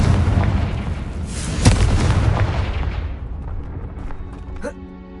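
A Confringo explosion spell in Hogwarts Legacy, a loud rumbling blast with a sharp burst that slowly fades out, under some game sound.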